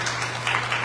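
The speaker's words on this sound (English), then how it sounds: "Round of applause for our panel." Brief applause from the audience for a panel at a political group's candidate night, a soft wash of clapping with a steady electrical hum beneath it.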